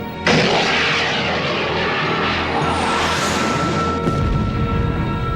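A warship fires a decoy in a Gundam SEED anime battle, heard as a sudden loud launch blast that turns into a sustained roaring whoosh, with a second burst near the end.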